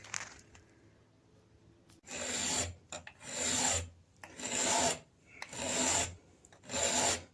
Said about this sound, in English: So I'm just using a flat file, just bringing down that material.